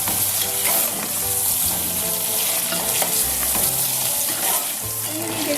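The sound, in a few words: chicken frying in a pan for chicken kachnar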